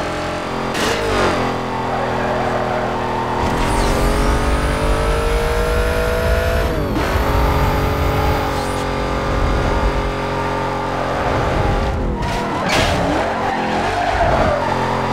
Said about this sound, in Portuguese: Chevetinho com motor de Mustang.